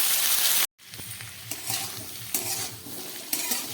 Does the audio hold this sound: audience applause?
no